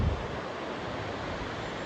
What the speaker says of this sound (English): That is an impressive waterfall.